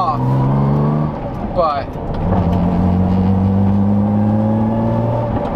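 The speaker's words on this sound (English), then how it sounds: "But you do have to rev the car a lot more to get her to take off." A car fitted with lightweight flywheels revs hard and accelerates, its engine note climbing in loud, close sweeps before settling into a steady drone while someone talks.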